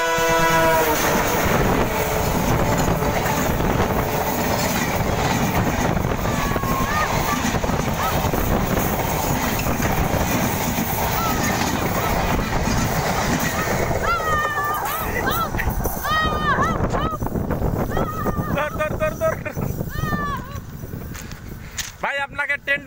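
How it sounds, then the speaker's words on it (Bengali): A train passes close by as a loud rumble fills most of the stretch, with rhythmic wheel clatter and horn blasts rising over the din. Near the end the roar fades into squealing and quieter rolling sounds, and voices are heard through it. "ট্রেনের মাথাটা আসতেছে এখন"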